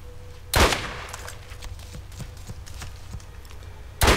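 Borderlands gunfire: a loud shot near the start and another at the end, with a string of lighter, evenly spaced pops in between over a low hum.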